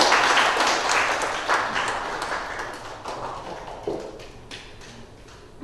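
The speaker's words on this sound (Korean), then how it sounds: "박수 한번 주십시오." An audience at the founding general meeting of a city lifelong-education professionals' association breaks into applause. The clapping is full and dense at first, then gradually thins and fades over several seconds.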